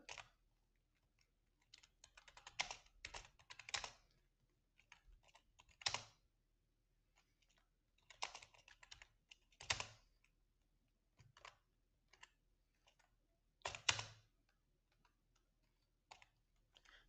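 Someone types C code on a computer keyboard in scattered clusters of crisp key clicks separated by pauses, heard close and fairly quiet with no talk.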